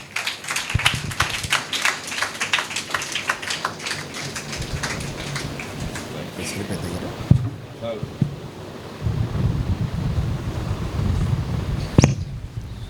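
A church audience at a Christmas service applauds to welcome a pastor, with dense, lively clapping for several seconds that fades into a rumbling hall ambience while a voice talks.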